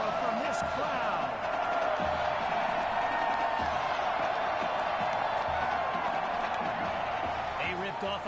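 Stadium crowd roar in Madden NFL 21 on PlayStation 5, a continuous dense wash of cheering and noise held at steady loudness throughout, with no pause or lull.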